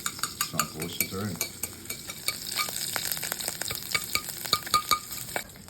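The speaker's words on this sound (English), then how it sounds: "you're gonna start to break up that anchovy in the oil" Anchovy fries and breaks apart in hot oil, a steady sizzle crackling under repeated scraping and stirring strokes of a utensil in the pan, close and continuous throughout.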